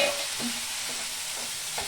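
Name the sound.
pointed gourd frying in spice paste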